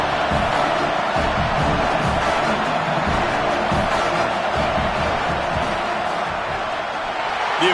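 Stadium crowd noise from an NCAA football video game during a fourth-down field goal attempt: a dense, steady roar of a large crowd that holds level for the whole stretch, with faint scattered shouts mixed in.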